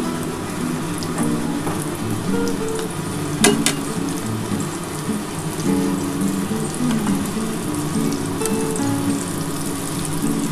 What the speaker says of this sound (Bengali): এই তেলের মধ্যেই এবার এগুলো ভেজে নিচ্ছি।